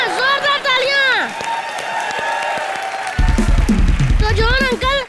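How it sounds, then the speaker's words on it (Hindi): Loud studio audience applause and cheering at a live Hindi comedy show, a sustained wash of clapping with a burst of crowd noise, while a host's voice talks over the start and end. "यहाँ जोरदार तालियां।"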